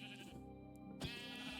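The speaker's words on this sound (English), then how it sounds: "rounded up some sheep" A Minecraft sheep bleats once, a short wavering baa over faint steady background game sound.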